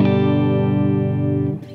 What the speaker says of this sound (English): if I want a clean sound, I can simply turn off my distortion pedal,